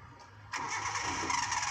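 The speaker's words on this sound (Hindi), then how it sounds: "क्लच दबा के इंजन स्टार्ट करो" A car engine cranks and catches after stalling, jumping at once from quiet to a steady, fairly loud idle that carries on to the end, with no talk over it.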